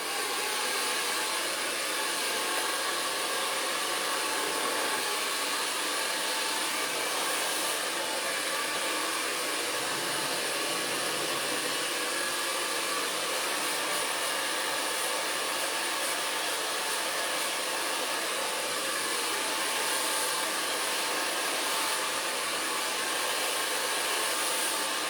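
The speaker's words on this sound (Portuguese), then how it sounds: "eu vou ligar o secador para mim poder escovar essa mecha" A hair dryer runs steadily and loudly for the whole stretch, a constant close whoosh used while brushing a section of hair smooth, with no talking over it.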